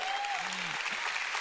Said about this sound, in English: Let's give the Lord a big clap